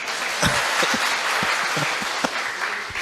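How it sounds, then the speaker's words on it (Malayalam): An audience claps in sustained applause at a talk event, a dense steady patter of many hands with a few sharper individual claps standing out. "അത് നമ്മൾ ഒരു കയ്യടി റഫീഖിന് കൊടുക്കും പ്ലീസ്"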